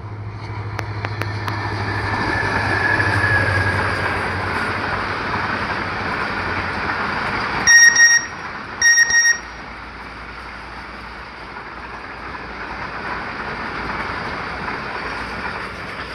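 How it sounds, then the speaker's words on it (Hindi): The Hazara Express passes through Sher Shah Junction railway station in Pakistan with a loud, continuous rumble and rattle of cars, broken midway by two short, sharp high tones, and the clatter keeps rolling on afterward. "हवेली और कराची के दरमियान चलने वाली 12 डाउन हज़ारा एक्सप्रेस पास थ्रू हो रही है शेरशाह जंक्शन रेलवे स्टेशन पे"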